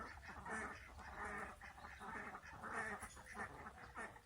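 Ducks quacking close by in repeated bursts of overlapping calls, rhythmic and fairly faint, with no voices.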